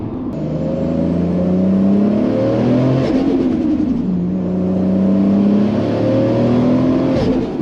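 Toyota AE86 accelerating hard down a long straight road, engine revs climbing in two pulls with a gear change between, loud and close from inside the car.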